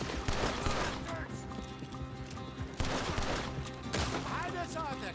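Gunfire in Red Dead Redemption 2, repeated sharp shots and bursts over galloping horse hooves and a neigh, busy and loud throughout with voices talking over the action.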